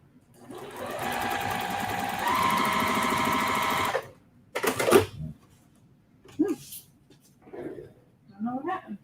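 A sewing machine stitches a quilt block in one steady, close whir lasting about four seconds, followed by clicks and brief handling sounds, then a person speaking.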